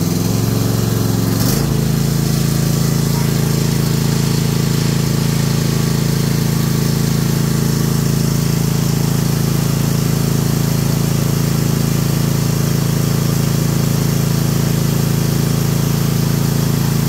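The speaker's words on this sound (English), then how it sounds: "we're going to start it up. Full throttle, forward 10 seconds, reverse 10 seconds." A Cub Cadet XT2 LX46 riding lawn mower engine starts and runs at full throttle, a steady loud droning hum that holds without a break, with no talk over it.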